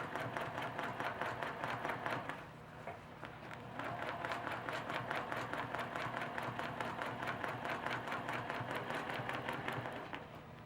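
A sewing machine stitching fabric runs in a fast, even rattle of needle strokes, pausing briefly once before starting again, fairly faint and steady.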